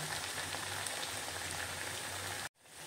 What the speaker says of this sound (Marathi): मीडियम गॅसवरच मी ह्या वड्या तळून घेतलेल्या आहेत।